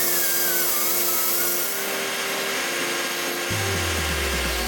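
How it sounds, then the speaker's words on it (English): An aluminum bracket holding an oil tank and overflow reservoir is cut off with a power tool in a tight space, giving a loud, steady grinding rasp throughout. The pitch drops into a deeper, heavier drone near the end. "that bracket that is getting cut off is the main bracket for the oil tank and the overflow reservoir"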